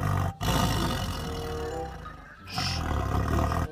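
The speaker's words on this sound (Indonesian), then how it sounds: "Wow, ada satu ekor harimau." A tiger roars in the video game Jurassic World Evolution 2, a loud, deep, sustained roar that breaks off briefly and then resumes, with no talking.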